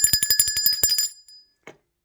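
A bell rings in a quick, bright run of about ten even strikes that stops short, followed by near silence and one faint knock.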